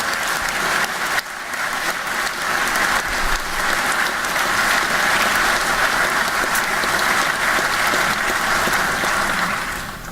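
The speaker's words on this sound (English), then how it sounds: "Everyone should give themselves a round of applause on that one" Sustained audience applause fills a hall during Georgia Governor Kemp's State of the State address, steady dense clapping with a brief dip near the start, then holding strong before tapering slightly at the end.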